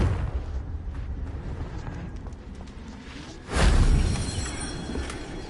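Confringo blasting curse going off in Hogwarts Legacy: a sudden loud fiery burst that rises over a steady rumble, then trails off slowly.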